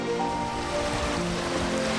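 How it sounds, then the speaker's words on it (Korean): Ocean waves break on a beach at Yakushima, Japan, giving a steady, close, loud wash of surf with no voices. "몰려오는 저 파도 속으로 뛰어들 겁니다"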